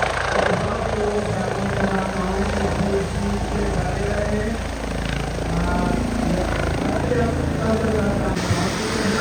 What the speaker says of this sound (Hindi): मुख्यमंत्री जी का हेलीकॉप्टर यहाँ पे लैंड करने वाला है